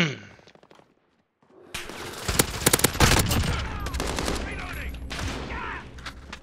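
Gunfire in Call of Duty: Modern Warfare (2019): after a brief lull, a burst of loud, close shots cracks out, followed by sustained rapid fire and game noise.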